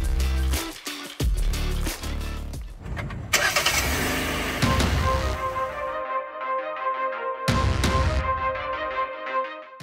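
Kia Sonet 1500 cc SUV setting off and driving, engine revving and surging loudly in several pulls close by, with gear changes breaking up the rising engine note.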